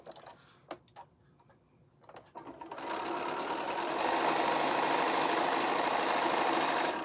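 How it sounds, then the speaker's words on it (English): A domestic sewing machine stitches fabric squares along a drawn diagonal for a quilt block. Several light clicks and handling noises come first, then the motor runs up into a steady, close, even whir that continues to the end. "we're going to stitch right on that diagonal"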